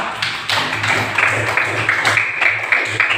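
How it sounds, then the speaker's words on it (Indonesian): Classroom applause from a group of students during a lesson on Surah Al-Maun, a steady patter of clapping with tapping rhythm across the whole moment, fairly close and moderately loud. "Tepuk tangan untuk semuanya"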